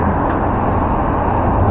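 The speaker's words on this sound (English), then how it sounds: "Sorry if the traffic's a bit noisy." Steady road traffic outside the Dundee Police HQ, a continuous broadband rumble and wash of passing vehicles with no gaps and no distinct pass-bys.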